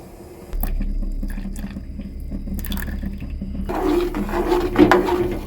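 Milk powder dissolved in water is poured into a pan while making bread kalakand, a steady liquid pour and splashing that grows louder toward the end, close up with no talking.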